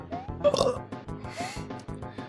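A man burping repeatedly, a drawn-out series of croaky, gurgling belches, close and loud.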